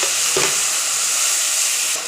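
A little water poured into a pan of frying crab masala, setting off a loud, close, continuous hiss and sizzle, with a brief stirring scrape near the start and no voices.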